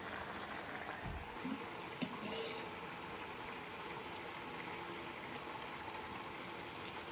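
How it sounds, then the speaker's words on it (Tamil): A pot of eggplant curry bubbles steadily at a low simmer, a soft continuous burbling with a few faint clinks along the way. "குழம்பு எப்படி கொதிக்குது பாருங்கள்"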